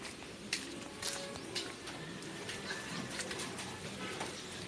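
Pet pigeons coo softly and flap their wings at close range, with small rustles and scattered wingbeat bursts over a faint, steady background and no talk.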